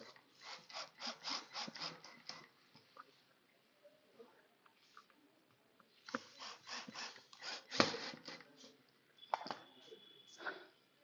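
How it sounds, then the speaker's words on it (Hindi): A twister dowel is tightened by hand into a wooden furniture panel, giving quiet, close rasping scrapes in rhythmic bursts separated by brief pauses. "जैसे हमारा ट्विस्टर डॉवेल है, इसको हम इसमें पहले टाइट कर देंगे"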